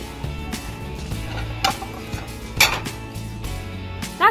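Plates and dishes being handled on a shelf at a Ross discount store, with several light clinks and clatters of ceramic spread across a few seconds over a steady background of store noise.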